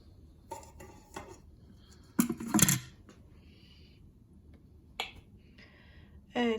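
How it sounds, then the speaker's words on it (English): A plastic measuring cup is dropped into the lid of a kitchen machine, giving a sharp plastic clack with a short rattle as it settles. A few quieter clicks and knocks come before and after it, close by with no talking. "Insert the measuring cup in."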